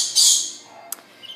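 Parrots and conures in a bird shop let out a loud, harsh squawk followed by a sharp short chirp and a fainter call, close by with no talking.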